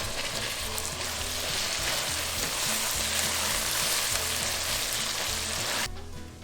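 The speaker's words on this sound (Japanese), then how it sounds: "お肉全部入れたら火をちょっと強火にしてソルツして混ぜながらもう一回ほぐします" Ground meat frying on high heat in a pan for a white ragù, a loud steady sizzle with rhythmic scraping and stirring throughout, cutting off abruptly near the end.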